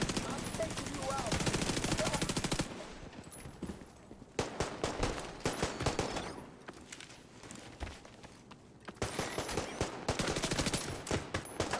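Gunfire aimed at a turret in the video game The Division 2, with rapid repeated bursts of automatic shots in several loud stretches, separated by brief lulls.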